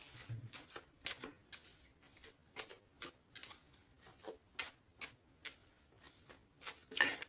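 A deck of tarot cards being cut and shuffled, a rapid run of crisp riffling flicks and soft slaps with brief pauses between bursts, close and fairly quiet, with no talking.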